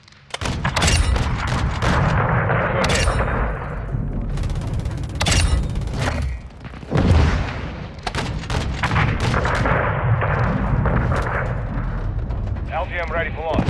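Heavy gunfire and booming artillery bursts from close air support in Call of Duty Modern Warfare 2, loud and dense throughout with a brief lull midway, mixed with radio chatter.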